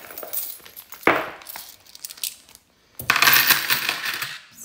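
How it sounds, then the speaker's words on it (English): Coins clink and jangle close by as they are tipped out and handled while cash envelopes are stuffed: a sharp metallic spill, a pause, then a longer burst of rattling coins. "And I've also got some coins in here."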